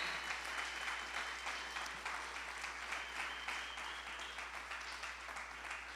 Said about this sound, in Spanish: Denle un fuerte aplauso al Dios Todopoderoso, con ganas